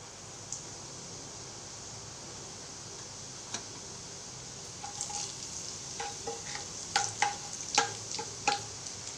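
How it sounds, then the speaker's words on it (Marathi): Homemade black masala and chilli powder sizzle in hot oil for a spicy soybean chunk curry. A steady fry hiss runs throughout, joined in the second half by sharp scrapes and clicks of stirring. No one speaks. "आपण हा मसाला छान तेलामध्ये परतून घेतलेला आहे।"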